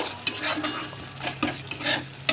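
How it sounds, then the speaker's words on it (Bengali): Spices fry with onions in a pan, with a soft sizzle beneath repeated spoon scrapes and stirring strokes that come in irregular bursts close by. "মশলাগুলো দিয়ে দেওয়ার পরে ভালো করে নেড়ে চেড়ে কষিয়ে নেব"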